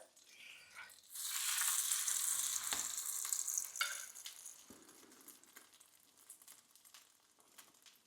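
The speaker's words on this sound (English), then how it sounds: "we can add the custardy bread, which has been dipped in this spiced egg mixture" Spiced egg-dipped bread slices frying in melted butter in a pan, a close, steady crackling sizzle that swells loudly after a second, holds, then gradually eases, with a few light clinks and shuffles.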